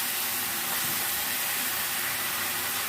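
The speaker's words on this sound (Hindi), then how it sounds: "ऑयल में सभी चीज़ों को 1 मिनट के लिए फ्राई कर लेते हैं।" Spices and ketchup frying in hot oil in a pan for guava chaat, a steady, loud, unbroken hiss that fills the whole moment with no talking.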